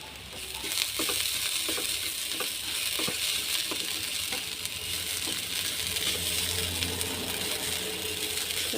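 Crushed coconut thoran fries in a pan while being stirred, making a continuous close sizzle broken by occasional scrapes and taps of the spoon. No one speaks.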